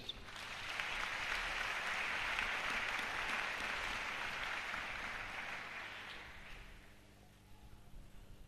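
A church congregation breaks into sustained applause, swelling quickly to a dense, steady roar of clapping that holds for several seconds before thinning out and fading toward the end, with no talking over it.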